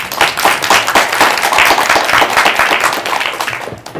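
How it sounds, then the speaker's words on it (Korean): Audience applause for a professor introduced at a career mentoring talk, a steady burst of many hands clapping that holds for several seconds before tapering off near the end. "박수 부탁드립니다"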